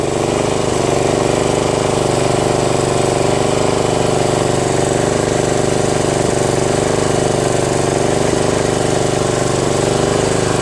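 A lawn tractor engine fitted with an electric fuel pump runs steadily and loud, its steady drone close by and continuous with a slight surging unevenness, and no voices over it.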